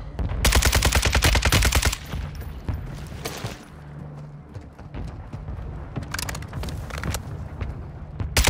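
Rapid automatic gunfire in Call of Duty Warzone 2, a loud dense burst for about two seconds, then scattered shots and action noise, with more bursts near the end.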